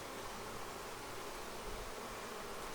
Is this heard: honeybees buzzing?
yes